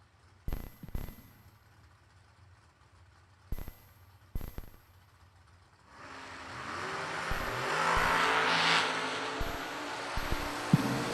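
Drag race cars, including a Corvette, are heard: a few sharp bursts and pops, then a loud rising roar as the engines accelerate away. The noise stays strong and sustained with shifting tones and brief cracks.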